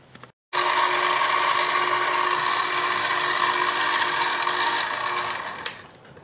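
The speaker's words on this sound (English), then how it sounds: "let me get these holes drilled and we'll be right back" A drill whines steadily while boring mounting holes in a custom spacer plate. The motor is loud and close and runs almost unbroken for about five seconds after a brief pause at the start, with no talking.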